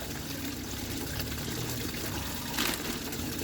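Coolant trickles and pours steadily from a Jaguar XJS V12 being drained, a faint continuous liquid splashing with a short gush near the end.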